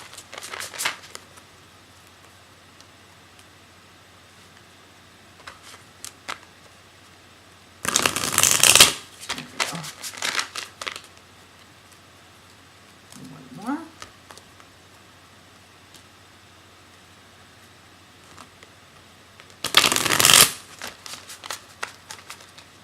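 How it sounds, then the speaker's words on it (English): Cards are riffle-shuffled in two short, crisp bursts spaced apart, with quiet rustling and faint handling noises between them. "If it wants to shuffle."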